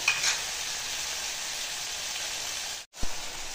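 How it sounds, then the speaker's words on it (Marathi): Tomato puree sautés in a pan for soybean bhurji, giving a close, even sizzle with light stirring that drops out briefly before the frying resumes. "आता आपण टोमॅटो प्युरी घालून घेऊया। 5 मिनिटं परतून घ्यायचं।"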